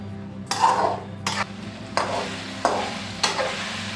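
Ginger garlic paste frying in a pot for chicken white handi, with a spoon scraping and stirring in several distinct strokes over a soft, steady sizzle.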